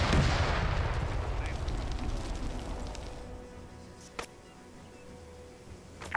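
In an online military shooter match set as ANZAC against Italians in Ethiopia, mortar rounds land as a heavy, booming roar that slowly fades over several seconds, followed by a single sharper distant crack amid quiet ambience.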